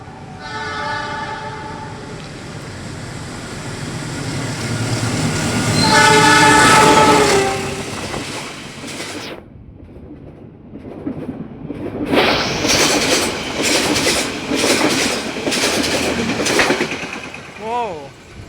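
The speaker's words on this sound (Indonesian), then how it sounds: "kereta api Malabarnya nanti akan melintas di sebelah sini, teman-teman, di jalur 2" A train horn blares, then a fast passenger train on the Malabar service roars past close by on track 2 in Indonesia with a loud rushing rattle that fades slightly before swelling again.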